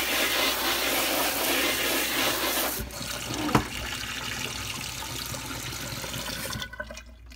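Real water pours onto a Nintendo Switch travel case, a loud, steady splashing stream that runs for several seconds, drops to a softer trickle, then stops near the end.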